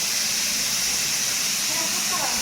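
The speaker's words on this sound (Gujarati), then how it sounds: "કુકરની સીટી વાગી." A kitchen pressure cooker whistle vents steam in a loud, continuous hiss that holds steady throughout, bright and close.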